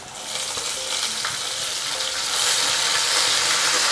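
Green chillies fry in hot oil in a pan, giving a loud, steady sizzle that runs alone the whole time and swells slightly toward the end.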